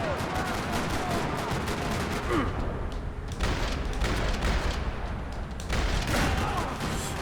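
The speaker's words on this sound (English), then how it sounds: "Another parking lot rattling with gunfire." Gunfire in the Max Payne 3 video game: dense, repeated bursts of shots and rattling fire that run continuously, with a voice talking faintly under the shooting.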